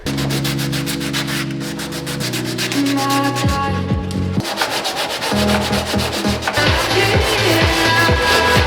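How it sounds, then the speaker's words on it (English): A fiberglass-reinforced bumper on an SRT8 front end being sanded, a loud, continuous abrasive grinding with a droning motor hum whose pitch shifts in steps, close by and without speech. "All right, I've got this side sanded down now as well."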